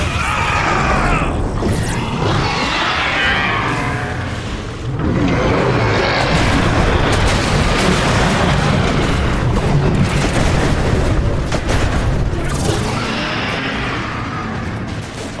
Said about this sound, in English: Deploying healing charges! Just be near them when they detonate!